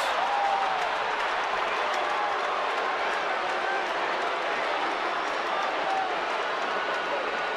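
Baseball crowd at a San Francisco Giants home game against the Chicago Cubs, a sustained loud roar of booing and stadium noise filling the whole stretch, steady and dense with no pauses.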